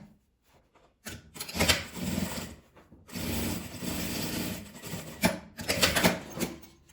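A sewing machine runs in several short bursts while stitching bias binding on a zipper pouch, its rapid mechanical rattle starting and stopping with brief pauses between runs.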